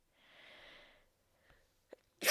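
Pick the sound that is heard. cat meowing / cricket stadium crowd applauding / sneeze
sneeze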